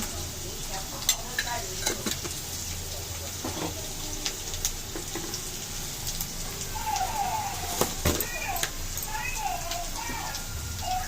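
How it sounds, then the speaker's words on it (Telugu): Onions, mint and spices frying in a pan for pudina rice, with a steady close sizzle, stirring scrapes and a few sharp clicks under occasional talk. "అన్నీ బాగా ఫ్రై చేయాలి"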